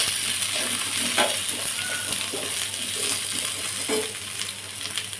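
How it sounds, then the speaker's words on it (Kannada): Chopped onions frying in a pan for a dhaba-style paneer curry, a steady close sizzle with occasional stirring scrapes and light clinks, no talk over it. "ಇದಕ್ಕೆ ಇವಾಗ ಕಟ್ ಮಾಡಿ ಇಟ್ಕೊಂಡಿರೋ ಈರುಳ್ಳಿ ಹಾಕ್ಕೊತಾ ಇದ್ದೀನಿ"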